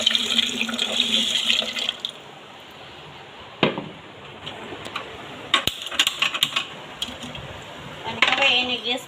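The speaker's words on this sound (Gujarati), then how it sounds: "એની અંદર પાણી ઉમેરી દઈએ મીઠું।" Water pours into a pot of soaked rice with a steady close splashing rush, broken by a pause and sharp clinks of the pot before pouring resumes.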